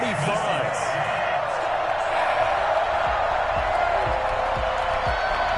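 A large Super Bowl stadium crowd roars and cheers steadily throughout, with a commentator's voice talking over the noise.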